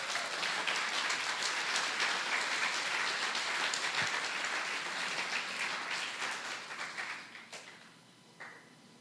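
A congregation at a church service breaks into loud, dense applause that holds steady, then thins out and fades near the end, with a few last claps.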